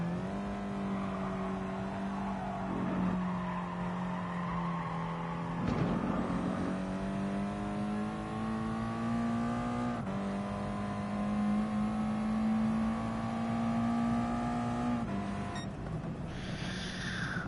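Engine of a Mazda Atenza Group 3 race car in Gran Turismo Sport, a loud steady drone that climbs in pitch through the gears with brief drops at each shift, close and alone.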